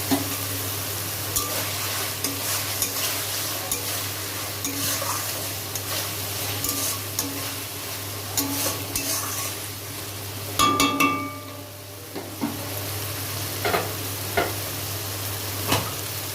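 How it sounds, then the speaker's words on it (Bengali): Spice paste for katla fish kalia with onion greens and coriander frying in a pan, a continuous loud sizzle with repeated spatula scrapes and stirring clatter throughout. "এইভাবে ভাজতে ভাজতে যখন দেখবেন মশলা থেকে তেল ছেড়ে দিয়েছে"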